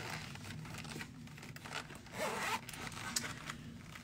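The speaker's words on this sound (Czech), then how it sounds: "ten hodinový, jo, bodlinový baťužek má rozbitý zip a už se rozbil úplně" A broken zipper on a small backpack is tugged and worked, giving a run of close, scratchy rasps with a brief louder burst near the middle and no talking.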